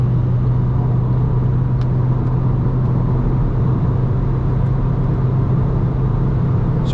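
Alfa Romeo Mito engine held at full throttle around 4000 RPM on a night autobahn run, a steady, loud droning hum with road rumble that stays level and unchanging throughout.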